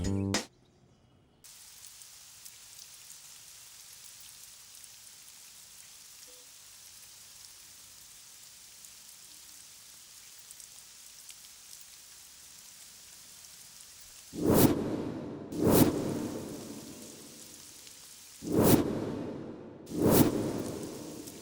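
Rain pours steadily and softly for a long stretch, then four loud, close thunderclaps crash at fairly even intervals near the end, each fading into the continuing rainfall.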